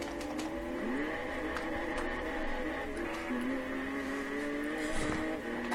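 An Audi R10 TDI race car in a Le Mans 24 Hours racing video game brakes hard into a corner, its engine a steady droning whine that dips and shifts in pitch, with another car's engine faintly blended underneath.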